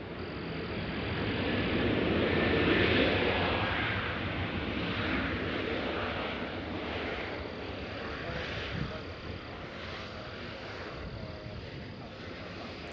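A Spirit Airlines airliner passes at Nashville International Airport, its jet engine rumble swelling to a peak then slowly fading, while someone talks over the steady roar.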